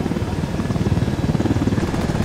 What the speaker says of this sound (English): Here, a chopper, is that it?